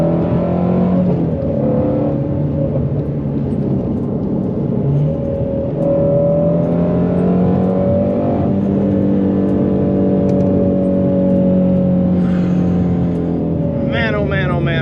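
A Ford Mustang Shelby GT350R Heritage edition accelerates hard with a loud, sustained engine roar that climbs in pitch. A few sharp backfire pops crackle near the end, and a voice talks excitedly over the engine.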